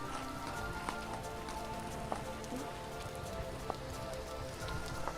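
Rain falling in the video game Vintage Story, a soft, steady patter with scattered faint taps and drips, low and continuous in the background with no talk.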